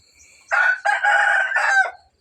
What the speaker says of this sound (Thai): อันนี้จะเป็นโซนไก่พี่น้อง ไก่ตัวผู้ นี่จะเป็นโซนไก่ตัวผู้